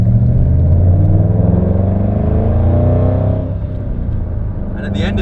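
A 2011 Ford Shelby GT500 V8 engine revs loud and close in a deep, sustained rumble, easing slightly toward the end, with no voices over it.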